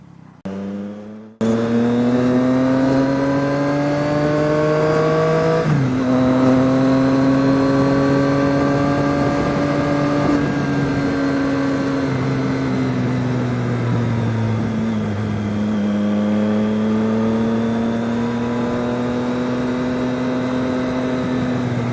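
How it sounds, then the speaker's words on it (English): A 2018 Triumph Street Triple with a Yoshimura exhaust approaches a restaurant, a loud, sustained engine drone whose pitch rises and falls through several throttle changes as it draws near, heard alone without talk. "approaching the restaurant, just so you can have a view of Bobby and his bike"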